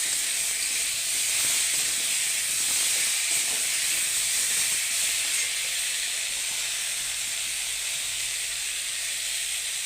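Spice paste hits hot oil in a pan while cooking a Bengali vegetarian vegetable sabji, giving a steady, fairly loud hiss and sizzle that holds evenly throughout without a break.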